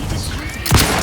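A grenade detonates in the video game The Outer Worlds 2, a single low booming blast that swells suddenly after a stretch of muffled game ambience and trails off into a rumbling tail.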